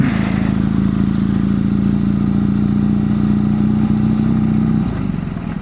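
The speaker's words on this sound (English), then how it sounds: "That was my first go through floodwater on this bike." A BMW GSA motorcycle pushes through floodwater, its engine droning loud and close with a steady wash of spray and clatter, easing off near the end.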